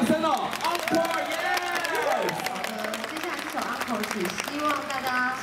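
A crowd claps and cheers in a loud, sustained burst of applause, with voices ringing out over it.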